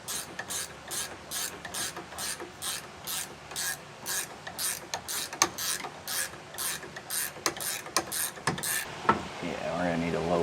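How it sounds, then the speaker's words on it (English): A hand ratchet tightening flange nuts on a trailer suspension shackle strap during a rubber equalizer install, a quick series of close, loud clicking bursts in steady rhythm, with a brief shuffle near the end. "we'll have 2 flange nuts to put on. And it's going to be the same thing as that center hanger. We're just going to tighten them down"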